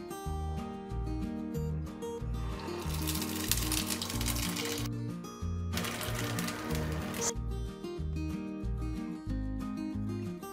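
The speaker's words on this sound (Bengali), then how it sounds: "তেল গরম হয়ে গিয়েছে, এবার আমি তেলের পিঠাগুলো ভেজে নিচ্ছি।" Pua pitha, sweet Bengali oil cakes, frying in hot oil, with two long bursts of steady bubbling sizzle heard under continuous background music.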